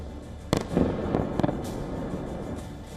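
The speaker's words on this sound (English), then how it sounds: "4 Russian missiles slammed into targets in less than a minute" Russian missiles striking the Golosiivskyi district of Kyiv: several sharp, distant blasts crack out in quick succession over a low background rumble, then fade into a quiet hush with no voices.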